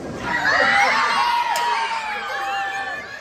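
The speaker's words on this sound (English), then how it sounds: "Very good. Round of applause." Children at an elementary school science show cheer and shout excitedly, a loud burst of high-pitched whoops and overlapping young voices that swells early and then eases slightly, with little clapping distinguishable.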